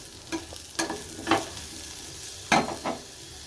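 Potato and cauliflower fry in a pan, with a soft steady sizzle under several sharp spatula scrapes and knocks spaced irregularly, close by and without talk.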